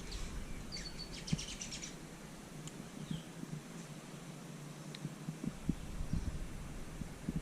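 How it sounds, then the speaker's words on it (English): Small garden birds chirp in short high bursts near the start and scattered later, faint against a steady low hum and background noise after a cyclone flood in Cairns. "There's lots of birds and butterflies."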